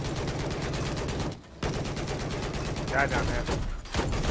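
Sustained automatic gunfire from the Battlefield 4 video game, dense and rapid, with a short pause midway, while a player says a few words over it.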